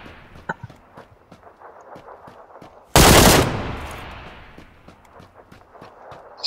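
A short, loud burst of automatic gunfire from a shooter video game. It cuts through quieter background game noise with scattered small clicks and steps.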